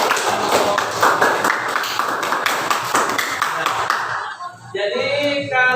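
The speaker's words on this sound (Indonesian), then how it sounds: "Beri tepuk tangan untuk." A class applauding, a burst of many hands clapping in a quick irregular patter that stops abruptly, followed by a brief lull and then voices talking.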